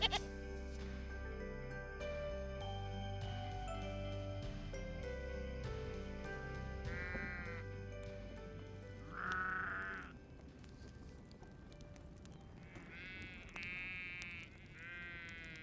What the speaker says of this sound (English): there were some shepherds and they were in a field with some sheep.